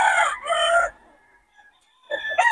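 Roosters crow loudly and close by among a flock of chickens, one long crow breaking off into a quiet pause before another crow starts up.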